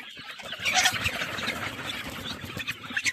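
Sonali chickens on a poultry farm clucking and chattering in a dense, continuous flock, fairly faint and steady with no talk.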